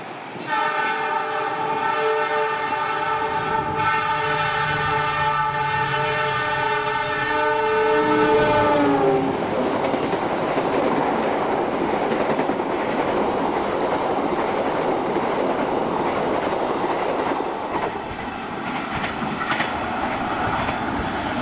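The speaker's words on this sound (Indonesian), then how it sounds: "yang akan lewat selanjutnya kereta api Brawijaya 58 dari stasiun Gambir ke" Brawijaya 58 train running from Gambir to Malang, passing close by: a loud sustained horn for several seconds, then the roaring rumble and clickety-clack of the carriages rushing past, steady and near.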